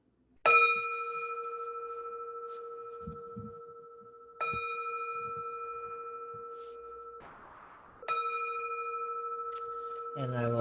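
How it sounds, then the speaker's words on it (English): A meditation gong is struck three times to close a Tonglen meditation session, each stroke a clear, sustained metallic tone that rings and slowly decays before the next, with a brief murmur of voice between strikes. "Let's ring the gong here."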